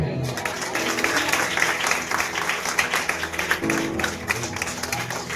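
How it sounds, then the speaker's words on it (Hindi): A church congregation claps steadily and rhythmically during a New Year sermon, a dense wash of hand claps blended with a speaking voice and background sound. "वो ताली बजाइए।"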